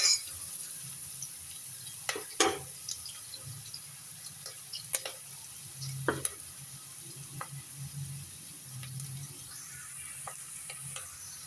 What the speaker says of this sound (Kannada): ಈರುಳ್ಳಿ ಒಂಚೂರು ಬ್ರೌನ್ ಆದಮೇಲೆ ನಾನು ಬೆಳ್ಳುಳ್ಳಿ, ಶುಂಠಿ, ಕೊಬ್ಬರಿ ಪೇಸ್ಟ್ ಮಾಡಿನಲ್ಲ ಅದು ಹಾಕ್ತೀನಿ